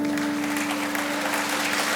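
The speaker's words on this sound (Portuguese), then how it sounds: "dar uma salva de palmas a Jesus com a maior força que você puder aí" Congregation at a church service giving loud, sustained applause for Jesus, dense clapping filling the space for the whole stretch.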